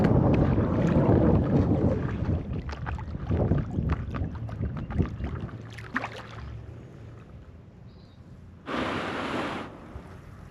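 Inflatable paddleboard moving across open water, with splashing and watery rushing under steady wind buffeting the microphone, then a brief louder burst of noise near the end.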